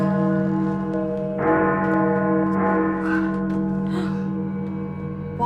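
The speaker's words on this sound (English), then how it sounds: "Oh god, why church bells?" Church bells in a horror video game toll in steady, heavy strikes whose rich, ringing overtones sustain and overlap, loud and close throughout, with a faint gasp breaking in near the end.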